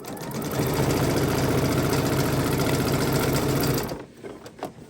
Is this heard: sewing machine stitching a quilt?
yes